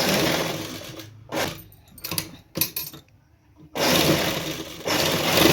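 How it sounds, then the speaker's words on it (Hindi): Sewing machine stitches fabric for a backless halter blouse, loud close bursts of rapid whirring stitching separated by pauses with small clicks and handling sounds, resuming strongly at the end. "स्टिच कर देंगे, एक सिलाई चला देंगे।"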